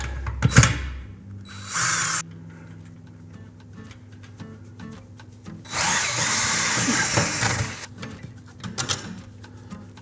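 A power drill works on a bolt at a Torquemaster Plus garage door spring, in several loud bursts of whirring separated by quieter pauses with metallic handling noises.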